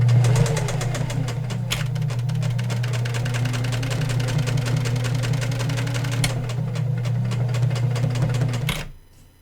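A sewing machine running reverse stitches along a zipper, a loud, close, rapid mechanical hum and clatter that holds steady for several seconds and then stops.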